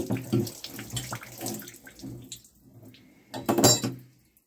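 Water spurting and splashing from a Kinetico water softener control head as it is opened for resealing, brief irregular trickling and a louder gush near the end, close by.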